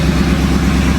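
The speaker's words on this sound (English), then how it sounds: "That's a perfect idle." The 1991 Pontiac Trans Am GTA engine idles steadily up close, a smooth, even low rumble with no voices over it.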